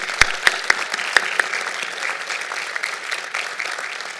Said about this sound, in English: Please join me in a round of applause for these new